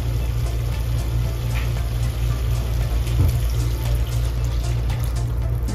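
A glass of plain water is poured into a pan of Kerala-style shark curry with kudampuli, making a steady splashing stream over a low, constant hum.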